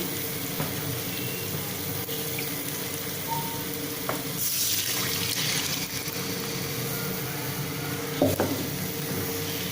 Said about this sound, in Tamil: கொஞ்சம் தண்ணி விட்டு கலந்து விட்டுக்கலாம்.